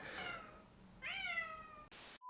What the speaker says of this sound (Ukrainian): мого кота, котрий зараз задовбує